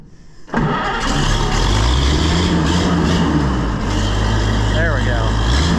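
A 57-year-old Oliver 1850 tractor engine kicks in after a quiet moment and runs loud and steady at wide open throttle, a deep continuous rumble close by, with a voice heard faintly under it.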